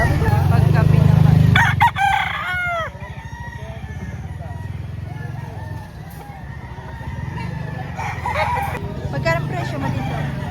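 Roosters crow in drawn-out rising calls at a busy chicken market in Lipa, Batangas, several overlapping near and far amid a steady hubbub of voices and people talking.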